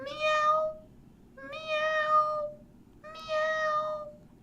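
A person's voice imitates a cat's meow three times, evenly spaced, each a clear, drawn-out, close and fairly loud call over a quiet background.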